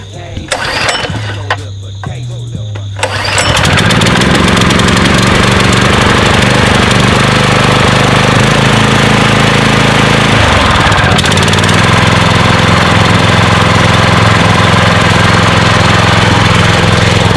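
Small garden engine with the choke set being started: a few sputtering pulls, then it catches and settles into a loud, steady rattling idle that briefly dips and recovers midway, with talk faintly in the background.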